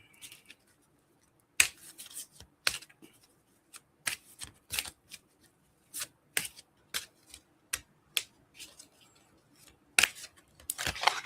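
Tarot cards shuffled by hand at close range, heard as a series of sharp riffling snaps and flicks in irregular bursts with quiet gaps between.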